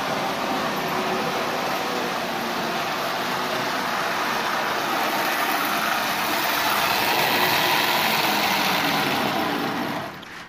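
Motor of a Marx 6000 toy train locomotive running steadily on its first test, a constant whirring hum at moderate level that cuts off at the end.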